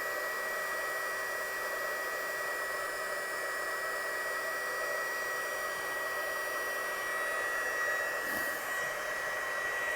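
A hair dryer runs steadily at close range, drying watercolour ink on paper, a constant whirring hiss with a bright motor whine and a slight shift in pitch near the end.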